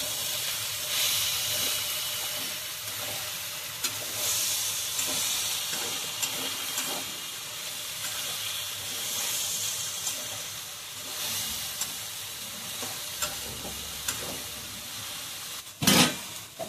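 Chopped ridge gourd sizzles and hisses steadily in a hot pan while being stirred, a constant steamy frying sound with a few soft scrapes and a sharp clatter near the end.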